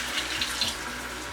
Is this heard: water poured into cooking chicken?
yes